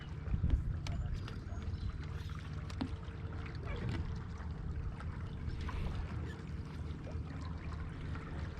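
A boat motors across Chickamauga Lake during a bass fishing tournament, with a steady low engine drone and water washing against the hull, heard close and continuous.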